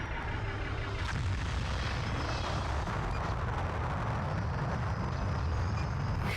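Continuous heavy rumbling and booming of explosions in the space combat video game Colony Wars Vengeance, loud and dense throughout with no voices.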